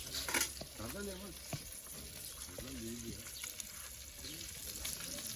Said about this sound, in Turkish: Nar gibi kızarttık Balıklarımıza.